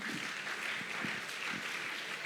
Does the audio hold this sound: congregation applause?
yes